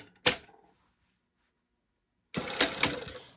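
A sewing machine stitches a seam on a pair of Persephone pants at a 2.5 mm stitch length. One short mechanical burst is followed by a pause, then about a second of steady, close, rattling stitching.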